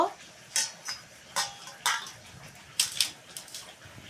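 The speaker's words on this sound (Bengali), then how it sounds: "এখন দিয়ে দেব নুন দিয়ে দেব হলুদ গুঁড়ো এখন ভালো করে মেখে নেব" Cut river sarputi fish being mixed by hand with salt and turmeric powder in a bowl: close, intermittent clinks and soft scrapes in short bursts, with no talking.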